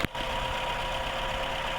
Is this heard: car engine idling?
yes